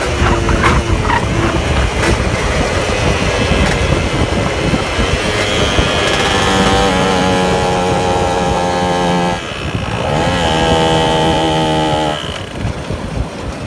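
A carbureted Yamaha F1ZR motorcycle screams loudly at high revs, its pitch climbing and holding. The wail dips briefly, then surges again before easing off.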